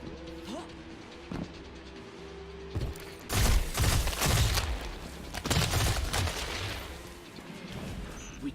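Video-game gunfire: after a quiet stretch of low mechanical hum, bursts of rapid shots and heavier booms erupt from about three seconds in, coming in clustered volleys before easing off, close and loud.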